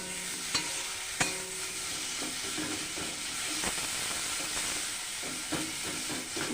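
Spices fry in oil in a pan with a steady close sizzle, broken by occasional clicks and scrapes as they are stirred, and no talking.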